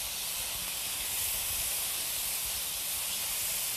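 Fresh tomatoes with their juice poured into a hot pan for stuffed peppers, producing a loud, steady, hissing sizzle with no letup and no talking.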